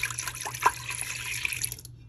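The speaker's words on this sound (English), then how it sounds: "I just start by pouring just a little bit in here" Lactose-free fat-free milk pours from a jug into an Instant Pot liner, a close, continuous liquid trickle with a few splashy drips that stops abruptly near the end.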